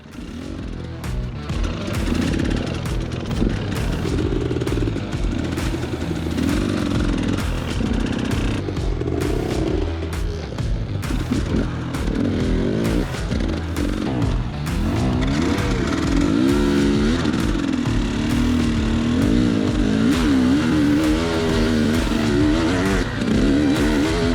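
Enduro dirt bikes ride mountain single track in British Columbia, engines revving and bogging continuously up close, with sharp throttle blips, rising whines and rattly clatter throughout.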